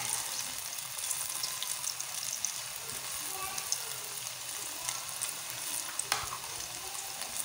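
Pakoras deep-frying in hot oil, a soft continuous bubbling sizzle with faint crackles that stays steady and fairly quiet from start to finish, with no talk heard.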